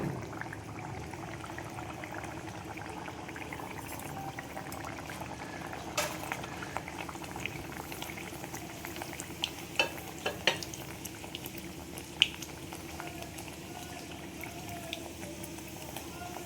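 Raj kachori frying in very hot oil: a steady, soft bubbling and hissing with scattered small pops, heard close and alone.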